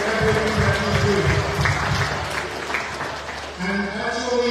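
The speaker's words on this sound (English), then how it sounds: "So you can please give him a round of applause" An audience at a Ramadan gathering in an Islamic center claps in a sustained burst of applause, fairly loud and dense. Voices can be heard talking over it.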